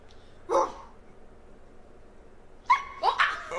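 A dog gives one short bark, then after a pause a quick burst of two or three louder yipping barks, close by against a quiet room background.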